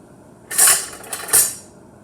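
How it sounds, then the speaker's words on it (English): Spatula and other kitchen utensils clatter against dishes as they are fetched while cooking fluffy eggs, in two short, bright metallic bursts with a quiet pause between them and no talking. "Let me get a spatula"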